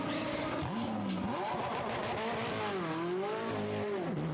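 A GTE AM race car at the 24 Hours of Le Mans, 2017, accelerating out of the pit lane, engine pitch climbing and falling through gear changes, loud and close against crowd and track noise.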